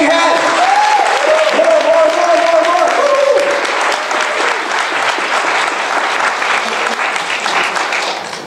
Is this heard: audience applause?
yes